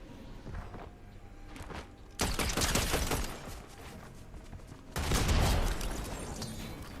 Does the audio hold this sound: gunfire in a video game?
yes